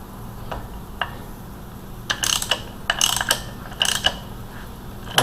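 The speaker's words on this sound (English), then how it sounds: "this is pretty important to run in your harmonic balancer before you have your timing cover tightened down" Ratchet turning the harmonic balancer bolt on a Ford 302 V8 engine during timing cover installation, heard as several bursts of quick metallic clicks spread out over a few seconds, fairly close and alone.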